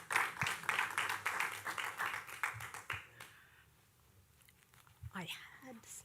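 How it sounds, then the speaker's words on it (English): Brief applause at a local business pitch event, a quick patter of clapping hands for about three seconds that dies away into quiet room tone before a voice begins speaking. "Applause, applause"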